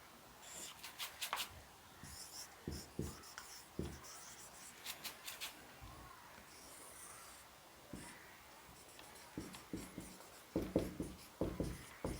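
Chalk or marker scraping and tapping on a board during a Class 10 biology lesson, a quick run of short strokes and taps heard close up, with no talking.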